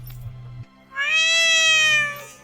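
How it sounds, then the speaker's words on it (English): A cat meows in the video game Tales of Arise: one long, drawn-out meow rises clearly out of a faint low backdrop and holds steady before trailing off. "And we were playing with this cat."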